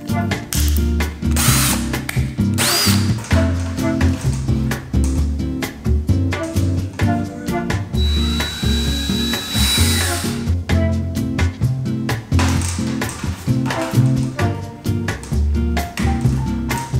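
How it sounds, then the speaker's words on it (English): A power drill bores a hole into a home wall for hanging a hook, its steady whirring grind running continuously and close, with no talk over it. "I'm just gonna drill a hole and ask for forgiveness."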